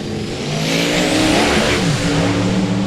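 Drag race cars launching at a South Georgia drag event, one a Pontiac Acadian running the Rowdy Radial class, loud engines roaring and revving up through the run with tire spin, no voices.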